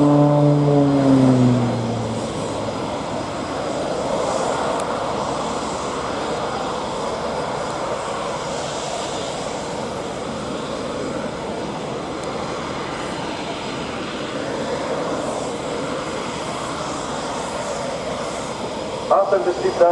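Aircraft engine noise from a military jet flying an air show display at RNAS Yeovilton, a steady broad roar held throughout with a brief louder burst at the start, heard from a distance.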